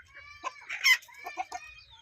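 Chickens cluck and squawk close by while being fed grain, quick uneven bursts, several birds overlapping in a short busy flurry.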